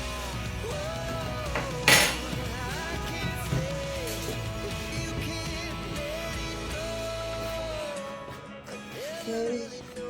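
A spoon clinking and scraping against a bowl while a peanut mixture is stirred together with nutmeg: close, irregular metallic taps with one sharp knock, then quieter scraping.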